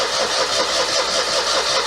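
A Citroën 2CV engine cranks with a loud, rhythmic churning whir, sounding close and continuous as the starter turns over repeatedly while the carburettor fuel bowl fills.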